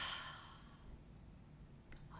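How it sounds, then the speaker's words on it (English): A single soft exhale through an open mouth at the end of a calm recovery practice, breathy and close, fading away into quiet. "Open your mouth and exhale."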